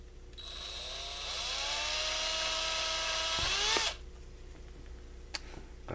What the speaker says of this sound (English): there's very little material to actually drill through